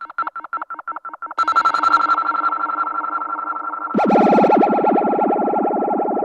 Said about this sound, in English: So this is the siren echo, and it's the same echo again with a big feedback.